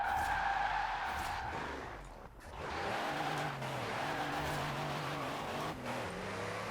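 A tuned truck drifts in Forza Horizon 4, its rear tires squealing and skidding over a revving engine, with the screech rising and falling in repeated sweeps under loud in-game noise.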